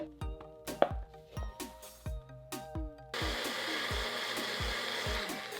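Blender running on pineapple pieces: first a series of sharp chopping pulses, then a continuous loud whirring blend.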